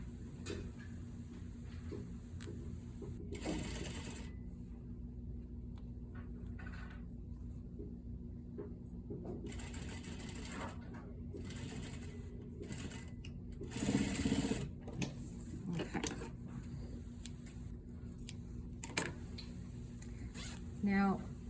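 A sewing machine stitches a lined zipper into a skirt, a continuous mechanical whirring hum with brief pauses and louder rattling bursts, close and steady, while a voice talks quietly over it.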